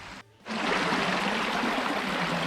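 Water rushes steadily through a gold sluice box outdoors, a dense continuous flowing wash that starts abruptly after a brief quieter moment and stays close and even throughout.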